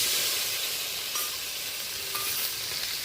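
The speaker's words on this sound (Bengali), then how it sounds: "ওই তেলেই আমি এই চিংড়ি মাছটা ভেজে নেব।" Prawns frying in about a tablespoon of oil in a wok after chillies, a steady bright sizzle with a couple of faint clinks from stirring, close and alone.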